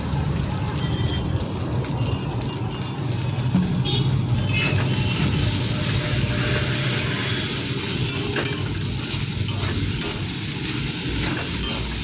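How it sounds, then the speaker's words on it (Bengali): Chow mein with egg and vegetables is stir-fried in a pan, producing a dense, loud, unbroken hiss and rustle of tossing noodles, with a voice talking over it. "সব সবজিগুলো আমি এখানে চাউমিনের মধ্যে দিয়ে ভালো করে একটু নেড়িয়ে নেব"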